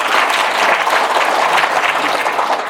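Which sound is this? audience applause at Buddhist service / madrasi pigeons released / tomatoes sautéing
audience applause at Buddhist service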